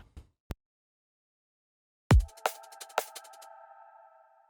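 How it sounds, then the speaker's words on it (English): A few short clicks, then a plucked synth bass note with a bright, buzzy sawtooth tone that rings and slowly fades, no talking. "just from a synth, like a simple saw bass sound to work around"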